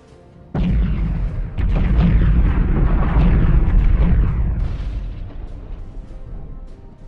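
Heavy explosions and cannon fire boom through a Homeworld 2 space battle with the Homefront mod's UNSC ships, two loud blasts starting a long rumbling roar that slowly fades away.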